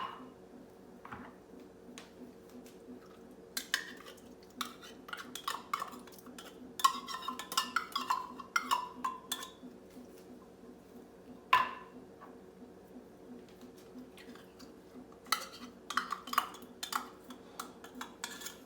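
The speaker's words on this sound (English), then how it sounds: "Might have to use a spoon to get most of them out of your can." Metal spoon scraping drained green chilies out of a tin can, light intermittent clinks and scrapes in short irregular bursts over a steady low hum, fairly quiet and close.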